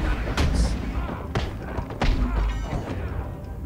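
Heavy thuds and whacks of Batman kicking enemies during unarmed combat in Batman: Arkham Asylum challenge mode, several sharp impacts spaced about a second apart over a busy game backdrop.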